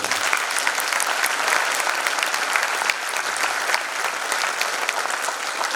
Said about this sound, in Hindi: उनके लिए एक बार जोरदार तालियां बजाएं।